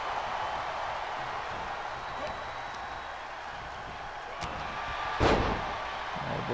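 A wrestler slamming onto the ring mat from a DDT at a live wrestling match, one sharp, fairly loud thud standing out from a steady crowd murmur, with a faint earlier knock.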